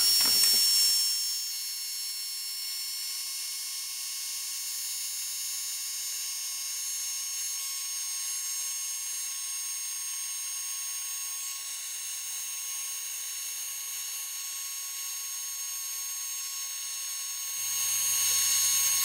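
A heat tool runs continuously to set gold embossing powder, a steady high-pitched whine and airy blow held nearly unchanged throughout.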